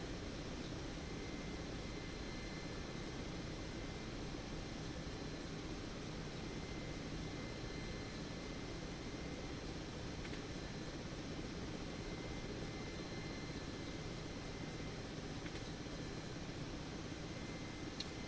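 Helicopter in a flight simulator video game, a steady even engine and rotor drone that holds constant throughout with no talk.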